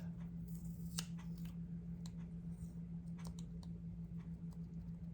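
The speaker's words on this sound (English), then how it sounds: "I'm going to take this sticker and just cut one of those evergreen sprigs" Small scissors snip through an evergreen sprig sticker in a paper-crafting setup, a series of quiet, close clicks over a steady low electrical hum.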